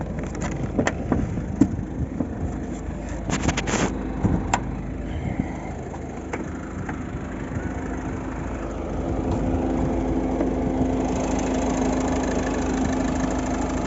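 A Volvo V50 with a 1.6 diesel engine and six-speed manual, idling steadily with an even low hum after a few clicks and knocks early on, close and unbroken with no talk.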